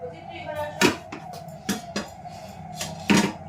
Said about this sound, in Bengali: চলো আলু কেটে নিই, নিয়ে একটু ভেজে নিই